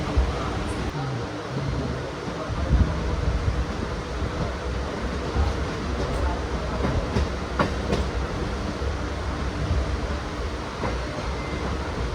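The Kanniyakumari–Kollam MEMU train runs along the rails with a continuous rumbling roar, intermittent wheel clicks and rattles, steady and close from inside the carriage.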